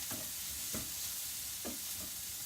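Peppers and asparagus being stirred in a frying pan for a frittata, a few soft scraping strokes over a steady low sizzle, close and fairly quiet.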